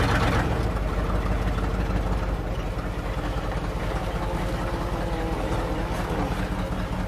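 An old Ford F350 pickup, abandoned for 28 years and just revived, drives along with a steady low engine rumble and drivetrain drone, close and continuous, with no voices.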